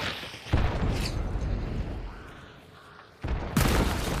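Booming blasts go off in a first-person shooter match, two loud thuds a few seconds apart with rumbling tails, rather close and without talk over them.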